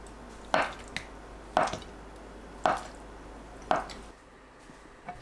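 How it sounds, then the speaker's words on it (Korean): Knife chopping green onions, chilies and tofu on a cutting board, four distinct close, moist cuts spaced about a second apart, with a light tap between them and quiet afterward. "파를 썰어주세요."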